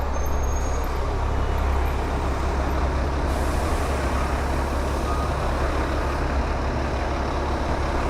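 Heavy city street traffic in Toronto's west end, with trucks and buses idling and rumbling close by, a steady low roar filling the scene and a brief hiss like air brakes partway through.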